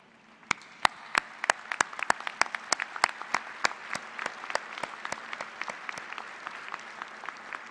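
Graduates at a fall university business administration commencement applaud their faculty, a dense, steady clapping from a large crowd in a hall, with sharp individual claps standing out throughout.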